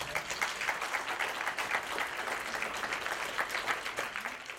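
An audience claps at a talk, a fairly faint, steady patter of many hands with soft irregular peaks, continuing throughout.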